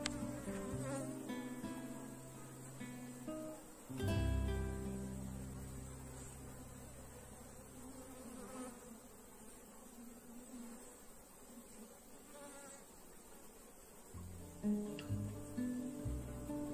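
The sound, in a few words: bee swarm buzzing while splitting a hive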